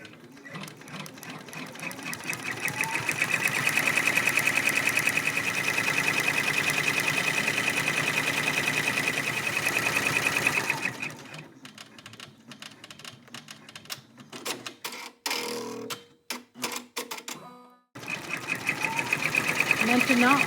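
An embroidery machine stitches a mini zigzag with a fast, loud, rhythmic whirr. It runs steadily, then stops and starts in short bursts before running again. Someone speaks French in places.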